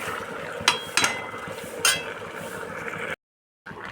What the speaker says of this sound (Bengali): একসাথে আমি এগুলো কষাবো।